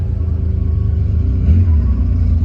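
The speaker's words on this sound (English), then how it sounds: "Got a few cars leaving." A Porsche engine rumbles nearby at a low, steady pitch, rising briefly with a bit of revving as the car pulls away from a Porsche gathering.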